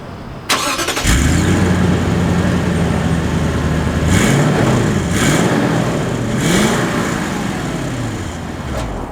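A 2019 Lexus LX 570 three-row SUV cranks and fires up, then settles into a smooth idle before revving and pulling away with a rising, steady engine hum, heard from inside the cabin.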